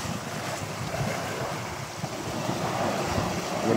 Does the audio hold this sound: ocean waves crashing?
yes